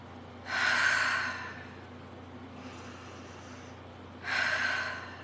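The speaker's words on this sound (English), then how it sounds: "Let's breathe." Two deep, loud breaths, each a long airy rush, are separated by a quieter, softer exhale in between, all close to the microphone.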